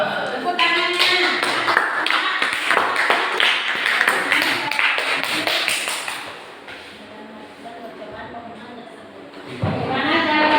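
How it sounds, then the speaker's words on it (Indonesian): Classroom audience clapping on cue during an Islamic history lesson, a burst of fairly close, irregular hand claps over the first six seconds that thins out, with voices talking throughout. "Tepuk tangannya."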